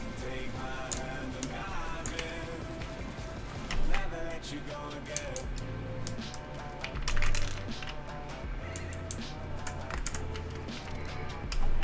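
Rapid clacky keystrokes ring out on a mechanical keyboard fitted with retooled box switches, a steady close-up typing rhythm over tonal background music.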